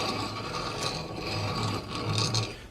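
A small piece of angle iron held in a beveling jig is sanded by hand, making close, rhythmic rasping strokes that rise and fall in short repeated passes.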